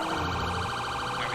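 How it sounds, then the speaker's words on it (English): A police car siren wails from a patrol vehicle in the video game GTA V with the LSPDFR mod, steady and loud with a rapid oscillating yelp throughout and no talk over it. "Alright, we can cut our siren now."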